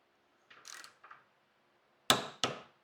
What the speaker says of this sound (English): that was a pretty good loud click there